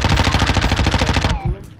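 Loud, rapid machine gun fire in a video game as players shoot on a beach, a fast, dense rattle that cuts off abruptly near the end, leaving a short quiet tail.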